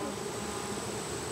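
Honey bees hum around an open hive, a steady close buzzing swarm sound that stays constant over a brief moment.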